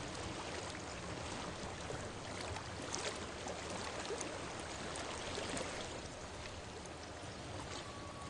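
Stream water flowing in Hellblade: Senua's Sacrifice, an even, continuous rushing and burbling with a few faint splashy ticks, sustained throughout without voices.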